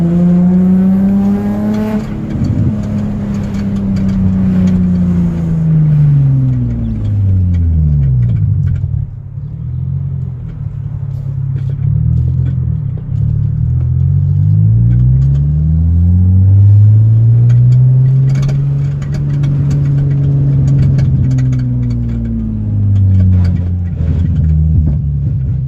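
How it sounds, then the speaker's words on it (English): Nissan 350Z with rocket bunny fenders, its engine idling loudly nearby and repeatedly revving, pitch sweeping up and falling back in several long swells, no talk over it. "the car sounds really good"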